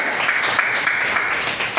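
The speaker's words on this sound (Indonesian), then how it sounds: "Tepuk tangan dulu lagi, biar semangat." A crowd applauding, steady dense clapping throughout at close range without pause.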